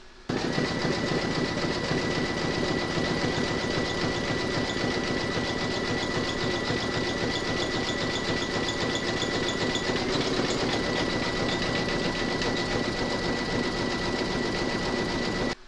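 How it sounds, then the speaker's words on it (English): An embroidery machine zigzag stitching around the raw edge of a pot holder hums steadily and loudly at close range, with a fast, even mechanical whir and a constant whine that runs without pause or voices. "pop your hoop back into your machine and stitch round number 4, and that's going to zigzag around the raw edge"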